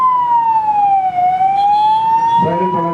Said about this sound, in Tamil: சைரன் போட்டு ரைட் பண்ணுங்க. சைரன் போடுங்க.